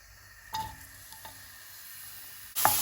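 Sliced onions hit hot oil in a pan with a sharp burst of sizzling, quiet frying crackle and a few soft clinks following, then a second loud sizzle near the end as more goes in.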